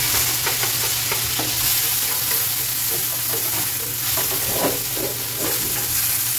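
Onion and tomato sauté in oil in a pan, giving a loud, steady sizzle with scattered crackles and spatula scrapes, close and continuous, with no talking.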